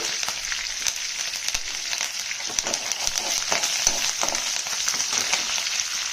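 Sliced onions, dried red and green chillies and curry leaves fry in a pan for a green gram curry, making a dense, continuous close-up sizzle with fine crackling and no voices.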